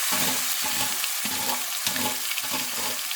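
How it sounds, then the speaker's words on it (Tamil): Mustard seeds and cumin sizzle and splutter in hot oil in a pan for a brinjal gravy, a continuous close crackle broken by regular scraping stirs, with no talk. "இப்போ அதே கடையில் எண்ணெய் சேர்த்துருக்கேன் கொஞ்சம் கடுகு ஜீரகம் தாளிச்சுக்கலாம்"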